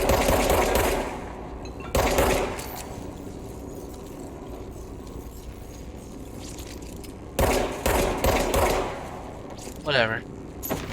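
Gunfire in the action game Control shooting panels off a wall: short loud bursts of rapid shots, one at the start, another around two seconds and a cluster near the end, separated by quieter ambience.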